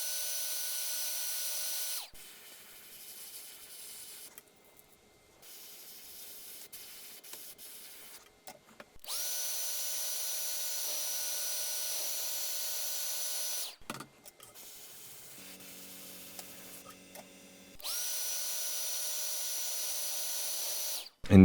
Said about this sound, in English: So I like to spray a little bit and then hair dry